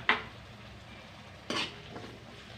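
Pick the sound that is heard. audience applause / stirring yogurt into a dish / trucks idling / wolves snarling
stirring yogurt into a dish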